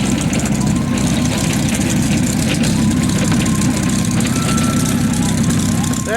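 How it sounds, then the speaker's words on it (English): Loud, steady low rumble of a P-51 Mustang's Merlin piston engine running at an airport after landing from a warbird tour flight, continuous and close for the whole stretch with no pauses. "Gotta love the sound of that Merlin engine."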